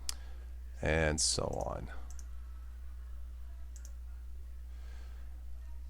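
Mouse clicks on a computer running Makulu Linux while browsing wallpapers: a few sharp, isolated clicks over a low steady hum, with a brief stretch of speech early on.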